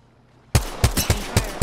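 Gunfire in the Apex Legends video game: after a brief quiet moment, five or six loud, sharp shots crack out in a fairly even rhythm, close and punchy.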